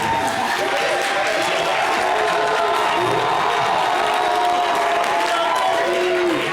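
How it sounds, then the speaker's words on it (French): A live audience at a televised stage performance claps and cheers, a dense continuous wash of applause with scattered shouts and whoops, with voices mixed in throughout. "Baby Philippe, merci d'applaudir."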